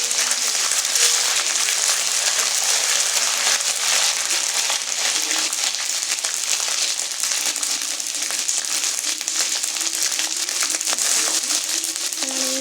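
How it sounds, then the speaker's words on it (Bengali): Green chilli and ginger paste frying in hot white oil in a pan, a loud, steady, close crackling sizzle that carries on without a break and without any voices. "এবার আমি এখানে সাদা তেল দিয়ে দিলাম এবার আমি কাঁচা লঙ্কা কুচি আদা বাটা দিয়ে"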